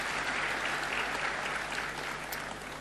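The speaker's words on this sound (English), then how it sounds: "Another round of applause, please." Sustained audience applause at a University of Limpopo event, a dense, steady wash of clapping from a large crowd that holds for several seconds and eases slightly at the end.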